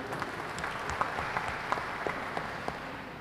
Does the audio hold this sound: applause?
yes